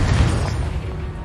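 A Confringo blasting spell goes off in a video game, a loud close boom with a heavy low rumble at the start that decays into a rolling tail over about a second.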